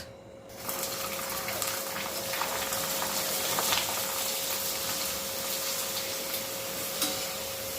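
Steady loud sizzling and bubbling of rice khichi papad frying in hot oil, a continuous hiss with small pops throughout.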